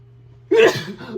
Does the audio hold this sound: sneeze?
yes